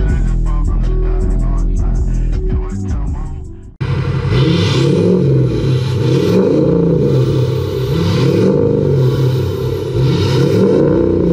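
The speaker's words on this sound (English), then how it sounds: "I will do an exhaust sound" A lifted 2020 GMC Sierra 1500 revs its exhaust, loud and close, with a rising and falling engine roar repeated over several seconds after a short burst of music.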